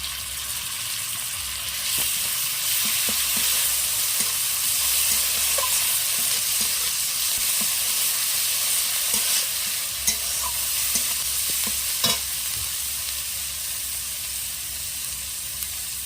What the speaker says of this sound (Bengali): রসুন আদা আমি ভালোভাবে ভেজে নিয়েছি এবার দিয়ে দেবো পেঁয়াজ বাটা